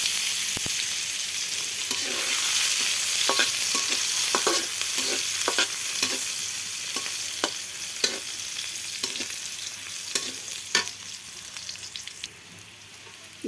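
Onions frying in a pan for a Malabar spinach dish, a constant close sizzle broken by frequent scraping clicks of a spatula stirring, with no talking.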